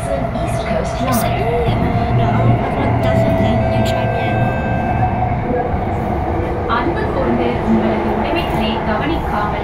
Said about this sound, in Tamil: This is just a normal train ride